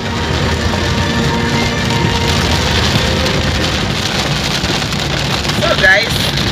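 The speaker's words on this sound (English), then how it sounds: "it's raining" Steady rain pattering and splashing on surfaces nearby, a constant wash of drops throughout with a brief clatter near the end.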